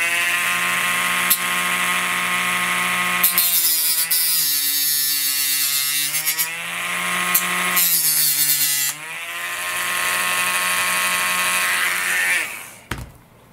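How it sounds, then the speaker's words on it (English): High-speed Dremel cutoff wheel slicing through pushrods for a CN-Models Sensor F5J model glider's rudder and elevator servos, a loud close whine that dips in pitch under load in several bursts before spinning down. "I'm just going to use a Dremel with a cutoff wheel"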